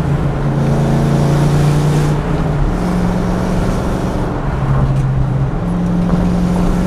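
Ford Mustang project car (Fox-body) driving, a steady loud engine drone whose pitch shifts up and down as it moves through gears and corners, continuous with no talk.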